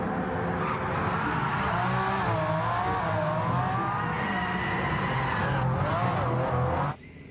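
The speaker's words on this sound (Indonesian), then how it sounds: "Mobil balap warna merah." A red race car skids with a loud, sustained tire squeal that wavers in pitch for about seven seconds, then cuts off abruptly.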